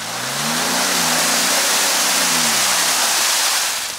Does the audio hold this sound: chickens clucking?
no